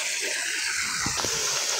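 Water gushing and flowing in a continuous hissing rush, close and fairly quiet, with a few brief splashy bursts partway through and no talking.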